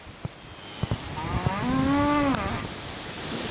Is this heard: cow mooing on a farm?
yes